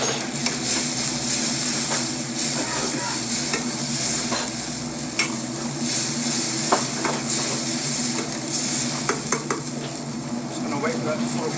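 A balti curry with ginger, ground cumin, fenugreek, garam masala and ground coriander sizzles steadily as it cooks down in a pan, with frequent clinks and scrapes of a stirring utensil against the metal.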